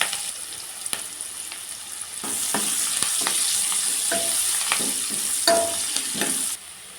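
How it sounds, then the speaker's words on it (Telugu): Chopped onions frying in oil with curry leaves and turmeric, a steady close sizzle that swells after a couple of seconds, broken by occasional scraping clicks of a spoon stirring the pan. "కరివేపాకు కూడా వేసుకొని ఉల్లిగడ్డ ముక్కలు ఫ్రై చేసుకోండి"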